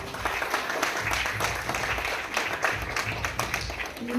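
Guests at a child's first birthday celebration clap together on cue: a steady, sustained patter of many hands, moderately loud and close, with no talking over it.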